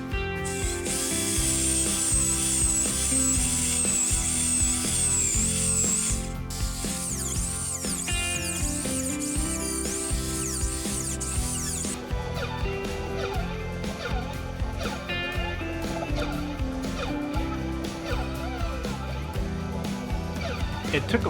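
A drill fitted with a bit extension bores up through a wooden post and beam, giving a steady mechanical whir with ratcheting, clicking texture that changes pitch partway through as the bit works deeper.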